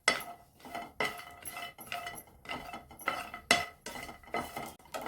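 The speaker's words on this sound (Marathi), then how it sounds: "बोंबील ना आपल्याला एकदम छान अशी भाजून घ्यायची" Metal spatula scrapes and clinks against a hot pan as Bombay duck (bombil) fish roasts on a gas stove, in irregular knocks and rattles close by with no talking.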